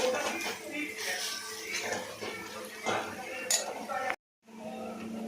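A spoon scrapes and stirs kardi masala roasting in a pan in steady, busy strokes, with one brief break near the end before the clatter picks up again.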